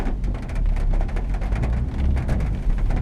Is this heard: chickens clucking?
no